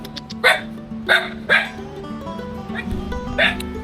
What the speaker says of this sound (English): There's so many street dogs here in Bali.